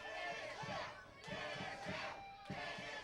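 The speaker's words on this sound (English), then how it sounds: "Crowd's calling for him to finish the match." Wrestling event crowd at a live show chanting rhythmically for the finish, a steady repeated call with clapped beats roughly every half second, heard from within the audience.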